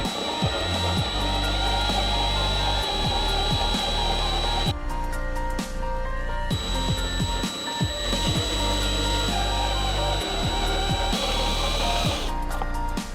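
A drill grinds steadily into a stripped Allen fitting on a BMW rear subframe, loud and close, whining continuously with a brief pause midway.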